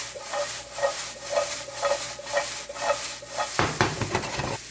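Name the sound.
sautéing onion, bell pepper and broccoli on high heat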